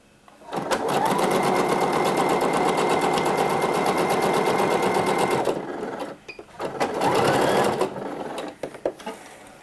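Sewing machine running a straight stitch along a shoulder seam, six millimetres from the edge, a fast close mechanical chatter lasting about five seconds, then a short pause and a second brief burst.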